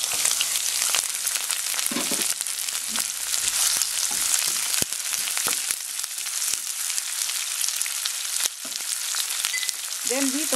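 Onions sizzle steadily in a pan for oyster adobo, a continuous bright crackle with a few soft clicks and scrapes, close and fairly loud throughout, no voices.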